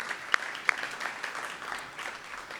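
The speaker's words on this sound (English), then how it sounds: "I think that deserves an applause as well." Audience at the Hiawatha State of the City address applauding, a fairly soft, steady patter of clapping with a couple of sharper individual claps near the start.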